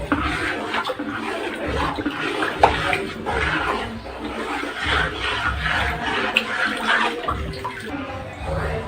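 Wet, squelchy sloshing as ration rice flour and water are mixed into papad dough, steady and close, with a faint murmur of voices underneath.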